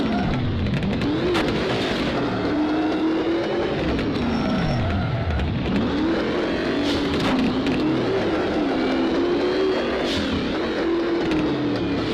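Arcade racing car engine in the VR game Drive VR, revving and shifting pitch continuously through acceleration and gear changes, loud and steady throughout with faint skids.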